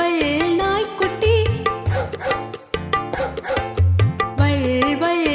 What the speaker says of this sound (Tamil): வள் வள் நாய்க்குட்டி, வாலையாட்டும் நாய்க்குட்டி.